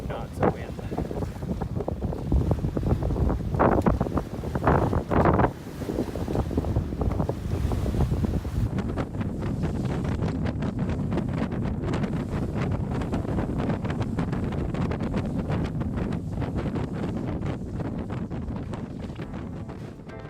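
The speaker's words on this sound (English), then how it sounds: "We're close haul to the wind right now, as close as we can get. We've got about 15 knots of wind." Steady wind buffets a sailboat sailing close-hauled in about 15 knots of breeze on Fitz Hugh Sound, with constant loud rushing noise and water washing against the hull, and no speech.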